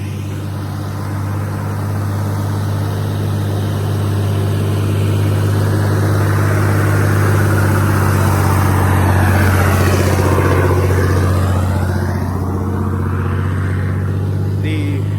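A large truck drives past on a road, its heavy engine rumble building to a loud, close peak midway, then fading away as it moves off.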